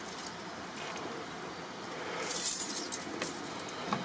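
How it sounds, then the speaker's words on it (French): A large bunch of house keys jangles and clinks in a hand for several seconds, a continuous bright metallic rattle that swells briefly louder midway, heard close with no talking. "le trousseau de clés est impressionnant"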